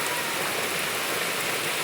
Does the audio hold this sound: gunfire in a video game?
no